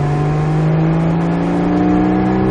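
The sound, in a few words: Porsche Cayman GTS engine accelerating on track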